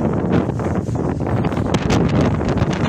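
Strong wind gusting at a dock, around 40 knots on a rising tide, roaring steadily across the microphone with buffeting rumble and no pauses for the whole stretch.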